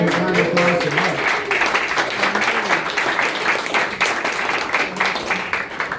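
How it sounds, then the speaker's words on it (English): An audience claps for someone at a public event, and the dense, steady applause carries on throughout while voices talk over it. "So how about some round of applause for Mark?"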